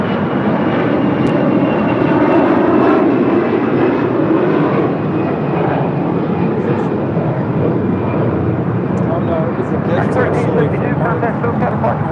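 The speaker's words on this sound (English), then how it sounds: "That is American Airlines 1372 departing to Dallas Fort Worth on an A321." American Airlines A321 jet departing for Dallas Fort Worth, a steady loud engine roar holding throughout with a rumbling low end, while a person talks intermittently over it.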